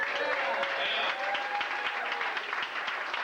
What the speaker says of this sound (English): Let's have a big round of applause for all the comics you saw tonight